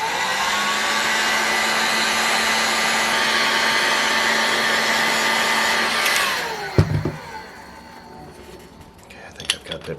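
A heat gun blows a steady, loud whooshing stream onto a motorcycle crankcase for about six seconds, then shuts off, followed by clattering and clunks of metal parts and tools being handled nearby.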